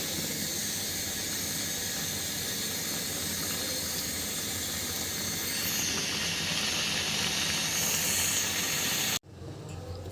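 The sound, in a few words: sizzling of mixed vegetables frying in a pan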